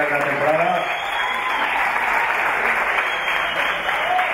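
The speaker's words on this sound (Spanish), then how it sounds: "Un aplauso para ellos, hombre," A crowd at an end-of-season sports awards ceremony claps in steady, sustained applause, fairly close, with a voice speaking over it.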